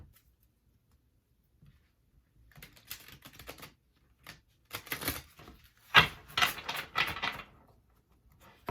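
Starchild Tarot cards being shuffled by hand, a quiet start giving way to bursts of crisp riffling and slapping from about 2.5 seconds, the loudest flurries near 5 and 6 seconds, close and with no voices.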